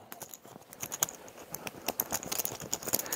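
A deck of game cards being shuffled by hand, a close run of quick, crisp riffling clicks and snaps that keeps up steadily, with no talk.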